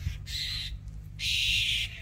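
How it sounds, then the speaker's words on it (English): Apostle birds call in two bursts of harsh, raspy chatter, fairly close, separated by a short pause, over faint low background hum. "Here's these apostle birds."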